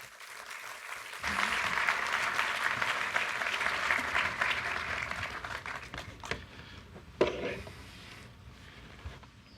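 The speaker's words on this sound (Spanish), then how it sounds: "Un aplauso para él, por favor." Audience at a business assembly applauds a speaker; clapping starts after a quiet moment, stays dense for several seconds, then thins into scattered claps with one sharp bump near the end.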